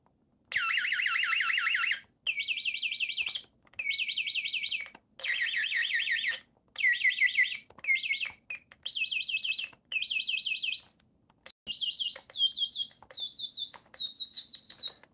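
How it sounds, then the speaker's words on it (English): A 1980 T-Mac electronic toy songbird sounding its notes: shrill, warbling electronic chirps in repeated bursts with short gaps between, fairly close and alone. "It's a songbird. It's got 12 different notes for some reason, but this is what they all sound like."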